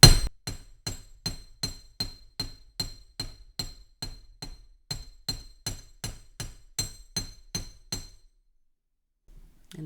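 Spiral earrings of 16 gauge wire take about twenty sharp, ringing metallic hammer strikes in a steady, even rhythm, close and clear, before the blows stop and silence follows.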